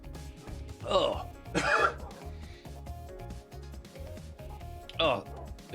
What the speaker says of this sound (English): the tea just went down funny. Made me cough.